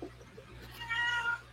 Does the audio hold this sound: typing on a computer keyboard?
no